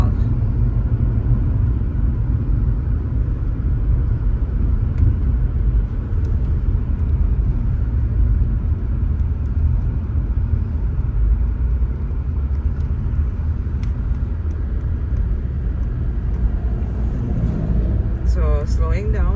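Car climbing a long hill in Jamaica, a continuous low engine rumble and road roar from inside the cabin, steady and loud, with a voice speaking over it near the end.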